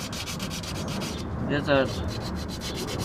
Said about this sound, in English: sand a little bit on the resting point to get this rust out